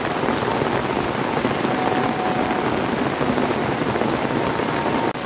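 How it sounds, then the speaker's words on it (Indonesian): Heavy rain pours steadily onto surfaces in a village setting where house construction has paused, a dense, unbroken hiss and patter that stays loud and even throughout with no voices. "hujannya sangat deras banget."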